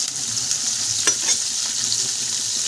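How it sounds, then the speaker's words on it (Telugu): Onions fry and are stirred in a pan for a paneer and green pea curry, a steady close sizzle with a couple of sharper scraping stirs near the middle. "బాగా కలుపుకోవాలి ఇవి చక్కగా వేగుతున్నప్పుడే పన్నీరు కూడా మనం వేపుకుంటే బాగుంటుంది"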